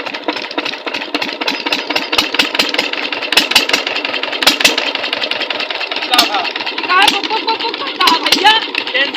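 A farm irrigation pump engine runs with a rapid knocking chug. The sound is close and steady, and people talk over it throughout.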